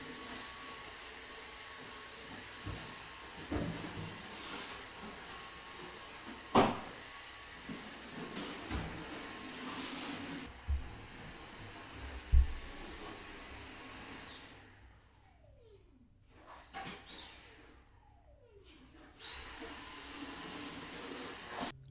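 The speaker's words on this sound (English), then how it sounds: "But why are we vacuuming right now?" A vacuum cleaner runs indoors, a steady loud motor roar with bumps and knocks as it moves, then it cuts out partway through, leaving a quieter room with a couple of rising whine-like sweeps.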